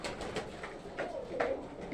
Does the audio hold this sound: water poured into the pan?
no